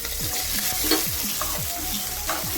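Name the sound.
chopped onion, green chili and capsicum frying in hot oil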